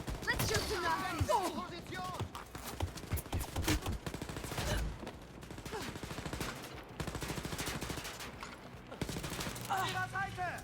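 Gunfire in the shooter game Wolfenstein: Youngblood, loud dense bursts of shots and impacts throughout with game music and character voices mixed in.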